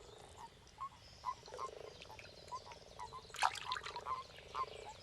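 Frogs croak in the flooded backwaters of the Danube during the mating season. Many short, repeated calls rise over a steady hum of other frog chorusing, some close and some far off, with no voices.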